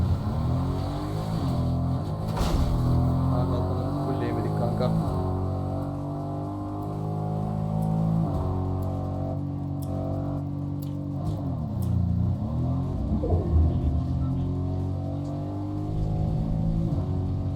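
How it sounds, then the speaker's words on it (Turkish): A car in the Fortnite video game drives and revs, its engine tone rising and falling through repeated gear-like sweeps, fairly close and steady, with a brief spoken call over it. "Bindim arabaya gidiyorum."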